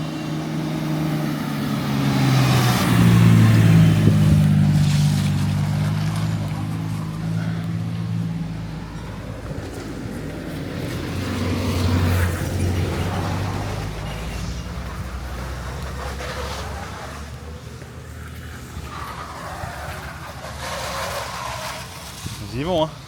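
Cars and trucks speed along a mountain road on Mount Heng in Hunan, China, a loud low engine roar swelling as vehicles pass close by, then fading, with someone talking over the traffic.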